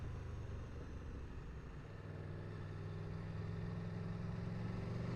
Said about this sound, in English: Right now, this is all engine braking.